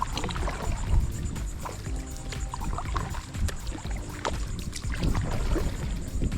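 A kayak gliding over calm Intracoastal water near Bing's Landing, Palm Coast, Florida, with close paddle dips, drips and gentle splashes in an uneven rhythm, hull and water sounds near and clear.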